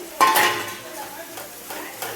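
Spice masala with fried capsicum being stirred in a pan for veg biryani, a spoon scraping and clinking against the metal over a soft sizzle, close and brief.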